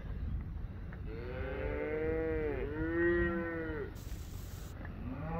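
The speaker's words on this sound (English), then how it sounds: "These calves are getting pretty beefy." Calves low in a series of drawn-out moos, loud and close, with one long bellow following another and a brief higher sound near the end; no one speaks.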